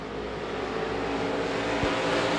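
USA Limited Modified race cars at Devils Bowl Speedway roar off at the green flag start, a dense, loud, continuous engine drone from the pack that swells slightly as they accelerate.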